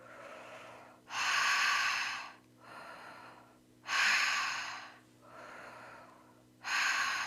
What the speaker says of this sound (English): holographic breathing is when you're really breathing into those chakras